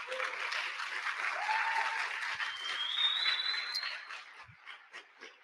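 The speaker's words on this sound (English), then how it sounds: "Can we give a round of applause to that?" Moderate applause from a small gathering, steady at first and then thinning into scattered claps, with some faint voices and tones mixed in.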